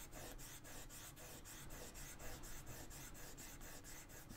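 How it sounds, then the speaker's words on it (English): A leather strop being rubbed with a solid polishing compound, giving a steady, evenly repeated scraping stroke up close with no talking. "all I'm doing is putting some polishing compound onto this leather strop"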